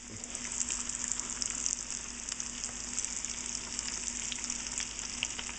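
Panko-breaded shrimp fry in a pan with a steady, dense sizzle and crackle, close and continuous throughout with no speech.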